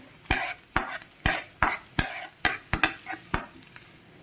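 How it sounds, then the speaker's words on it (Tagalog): Garlic sautés in hot coconut oil in a pan: a soft sizzle is punctuated by a regular series of sharp spatula taps and scrapes, up close, with no voices. "Ginamit ko rito is coconut oil. Ilagay ang bawang. Igisa."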